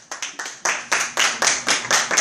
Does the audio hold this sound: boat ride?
no